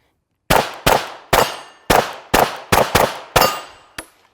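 Gunshots in a shooting drill fired at targets, nine sharp loud cracks in quick succession over about three and a half seconds, each with a short ringing decay, no talking.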